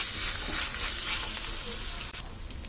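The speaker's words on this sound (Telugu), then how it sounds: "ఇప్పుడు ఇందులో ఒక స్పూన్ అల్లం వెల్లి పేస్ట్ వేసుకుందాం బాగా ఫ్రై చేస్తాం" Ginger garlic paste frying with onions in a hot pan, a steady loud sizzle with faint scraping near the end, heard up close and alone.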